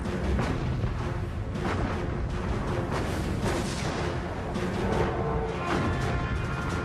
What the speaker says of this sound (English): Now, on May 24, 1941, Hood and Bismarck open fire.